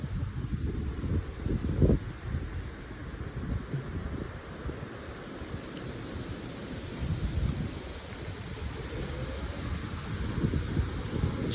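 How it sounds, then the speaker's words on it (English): Strong, gusting wind roars outdoors under dark skies as a severe thunderstorm moves in, a continuous low rumbling buffet with louder surges, one sharp burst near the start, no voices. "That's a big gust of wind."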